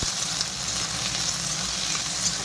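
Chopped onions frying in a pan for eggplant bharta, a steady close sizzle with no pauses and no talking.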